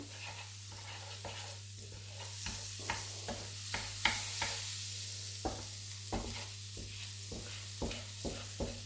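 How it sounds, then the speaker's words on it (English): Steak frying in a pan with butter, a continuous close sizzle broken by irregular scraping and tapping of a utensil against the pan, with no talking. "You can see it's starting to fry off."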